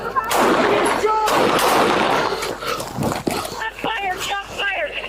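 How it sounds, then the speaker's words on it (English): Gunfire during a police confrontation with a violent offender, a sharp bang or two standing out from loud, tense shouting voices and commotion. "Shots fired."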